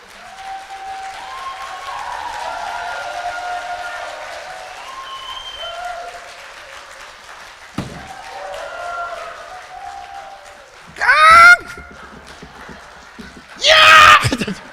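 A church congregation at a Chuseok thanksgiving afternoon worship service breaks into two short, loud bursts of applause and cheering near the end, after a longer stretch of softer voices and tones.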